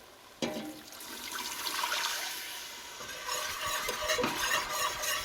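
Whole milk being whisked into a flour paste in a pan on the stove: a steady wet swishing and sloshing with faint sizzling, continuous and close, with no voices.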